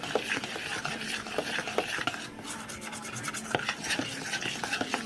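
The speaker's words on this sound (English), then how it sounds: "And you keep stirring." A spoon stirs cake batter with powdered sugar in a bowl, making continuous close scraping and rubbing strokes with soft, irregular clicks against the bowl, and no voices.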